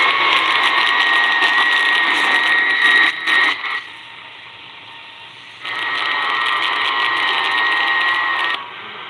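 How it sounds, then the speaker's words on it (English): Shortwave radio transmission suspected to be a numbers station, received on a 100-foot longwire antenna: a loud steady droning tone with noise that cuts out for a couple of seconds midway, then resumes before dropping again near the end. "Hold on, this may be a number station."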